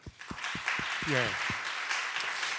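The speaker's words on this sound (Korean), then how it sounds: "그래서 먼저 여러분에게 박수를 보내고 싶습니다." Applause from the audience at a church youth camp, a soft, distant patter of many hands spread under a speaking voice, with a few low thumps near the start.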